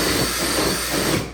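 A power drill bores steadily through a wooden floor two to three inches thick, a loud continuous whirring grind that holds for over a second before easing off at the end.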